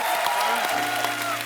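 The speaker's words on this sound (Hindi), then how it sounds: "एक बार सुनिधि और हितेश के लिए जोरदार तालियां" Audience applause for Sunidhi and Hitesh in a comedy-show studio, a steady wash of clapping throughout, fairly loud and close, with a faint voice or music underneath.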